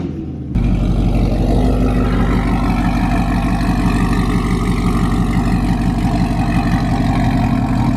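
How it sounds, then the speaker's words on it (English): A C7 Corvette engine runs loud and close, starting abruptly and then holding a steady, deep idling rumble with a slight throb as the car is moved. "Now let's bring the Corvette right here."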